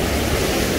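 Flash flood water rushing through the streets of Mecca, a loud, steady broadband roar like heavy surf, continuous for the whole moment with no voices over it.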